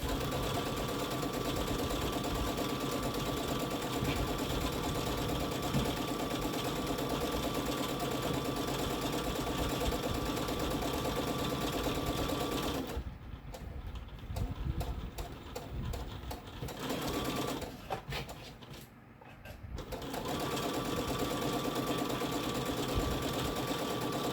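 A sewing machine stitching an apron with a pocket hums in a close, steady run, stops for a few seconds partway through with faint handling sounds, then resumes its continuous whir.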